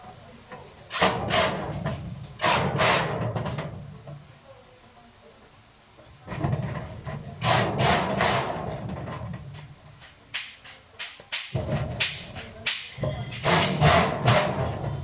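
Screws being driven into the backplate of a cabinet with glass doors during assembly: several bursts of scraping and grinding, each lasting a few seconds, separated by quiet pauses, close to the listener.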